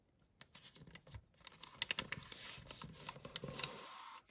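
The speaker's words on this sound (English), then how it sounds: "fold over like that. Again, pressing it down, open it out, turn it round and fold again" Scrap wrapping paper folded and pressed flat for an origami bauble, a close run of crisp crinkles, taps and rubbing strokes that rise to a busier patch in the middle.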